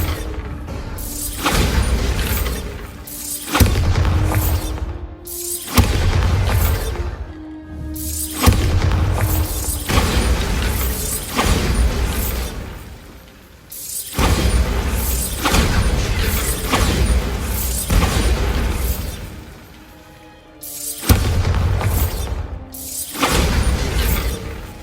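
Bombarda spell explosions in Hogwarts Legacy go off again and again, a string of loud booming blasts with crashing, shattering debris, separated by short gaps over about twenty-five seconds.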